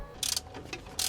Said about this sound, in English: now I can finish up by tightening up the tie rod end to the knuckle